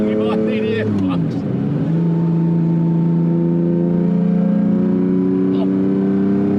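Inside a Lamborghini Diablo SV, the engine revs up with a rising whine, then settles into a loud, steady droning hum that fills the cabin for several seconds.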